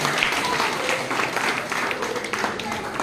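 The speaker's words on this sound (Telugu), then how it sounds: "గట్టిగా చప్పట్లు కొట్టారు." An audience at a club event claps loudly, a dense, steady wash of applause lasting several seconds without pause.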